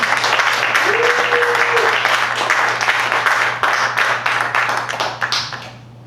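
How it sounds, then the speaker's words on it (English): Audience applause at a jazz combo concert, a dense sustained wash of clapping that fills the room and then tapers off toward the end, with a voice briefly audible over it. "Let's give him a round of applause."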